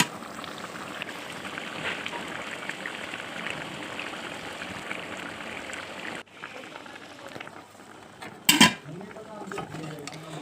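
Chicken curry gravy bubbling at a steady boil in a pot, a soft continuous burble that thins out partway through, followed by a brief sharp clatter, with a voice speaking over it.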